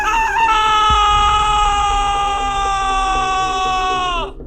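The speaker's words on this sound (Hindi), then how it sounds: "उसकी छाल से किसी के चीखने की आवाजें आ रही थी।" A drawn-out, eerie scream-like wail, high and harmonic, rising at the start then holding steady for about four seconds before cutting off, loud and close, with a dull thump early on, evoking screams from a haunted tree's bark in a horror tale.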